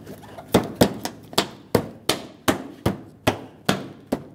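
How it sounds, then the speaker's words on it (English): Ten sharp, evenly spaced taps seat a bumper cover bracket on a 2011-2021 Jeep Grand Cherokee beside the headlamp and fender, each knock close and crisp with a short ring, with no talking. "Just tap this into place."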